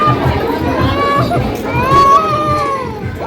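Villagers gather at the Hiradevi temple festival, a busy crowd of chatter, shouts and children's voices blending close around, with one voice speaking over the noise.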